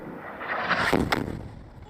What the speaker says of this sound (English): Double blast, double thump.